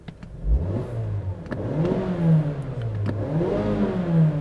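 A 2016 Mazda CX-5 GT with a 2.5-liter Skyactiv-G engine starts and revs, the engine note swelling and falling back in several close, loud surges with no talk.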